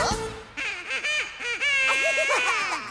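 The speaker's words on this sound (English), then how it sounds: "he led the others with a quack, quack, quack" A honking, quacking duck call set into a children's song, sounding as repeated nasal squawks in quick rhythmic bursts over the music and close up.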